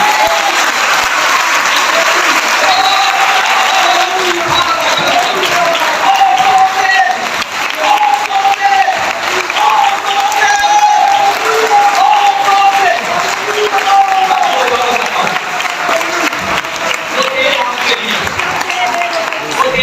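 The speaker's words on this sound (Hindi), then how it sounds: "उसके बदले में जोरदार ताली बजाओ" Church congregation at an Urdu–Hindi sermon applauding loudly, a dense and continuous roar of clapping with some cheering voices, strong and sustained for the whole stretch.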